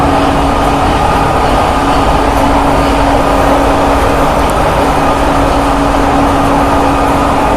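A high-speed train passes near an LRT station, a steady loud rolling rumble with a sustained mechanical hum running throughout, no voices present.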